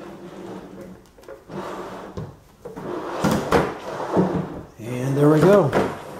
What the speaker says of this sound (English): just slide it, let it slide down into place